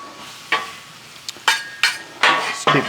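Onions and peppers cooking on a Blackstone griddle: a soft sizzle underneath several crisp scraping strokes of a spatula across the flat steel surface, coming in a loose uneven rhythm, close and fairly loud, with no talking.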